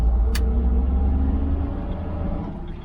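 A 1968 Jaguar E-type Series 1, left sitting for a few years, rumbling steadily from inside the cabin while driving, its low engine drone constant and close with a brief faint click near the start.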